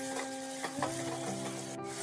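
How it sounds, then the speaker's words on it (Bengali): A spoon stirs pumpkin masala with kasuri methi in a pan, soft scraping and a gentle sizzle, quiet and close, with no talking. "দিয়ে ভালোভাবে একটু নাড়াচাড়া করার পর"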